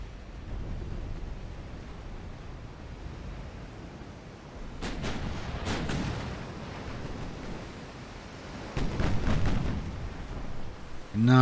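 Cruiser guns firing in a naval battle in the video game Ultimate Admiral: Dreadnoughts, Japanese Empire 1890 campaign, with clustered booming salvos around the middle and end over a steady low rumble.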